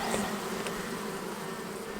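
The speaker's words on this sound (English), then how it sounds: "This hive has a lot of bees in it." Honey bees buzz densely inside an opened hive given emergency sugar bricks, a steady close, even drone with no talking.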